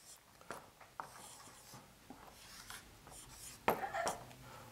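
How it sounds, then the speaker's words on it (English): Pen scratching out a word by hand in a tajweed class on Quran words, soft scraping strokes in short bursts, close and faint, with a little background voice. "we're going to write the word down"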